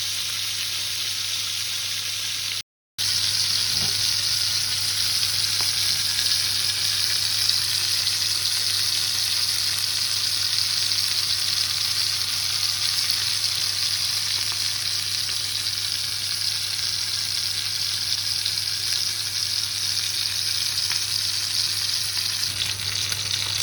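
Pork chops fry in a pan with a steady, loud sizzle that runs almost unbroken, dropping out only briefly near the start, with no voices over it.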